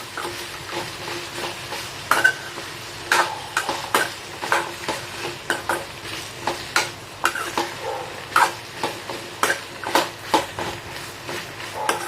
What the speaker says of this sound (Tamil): இது வெண்டைக்காய் வந்து நல்லா வதங்கட்டும்